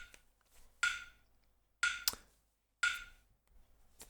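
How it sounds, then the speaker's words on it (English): A metronome ticks steadily at 60 beats per minute, one crisp bright click each second, alone and fairly quiet with faint room noise between beats. "we are going to set that metronome to playing at"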